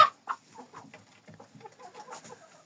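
Chickens and a rooster clucking at close range on a small farm with Jersey Giant birds, with a sharp call at the start and then a run of soft, irregular clucks.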